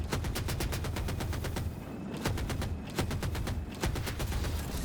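Rapid, loud automatic bursts from a helicopter's 30mm cannon in Battlefield 2042, an attack or stealth chopper hammering out shots in a steady driving rhythm for the whole stretch, with only a brief lull midway.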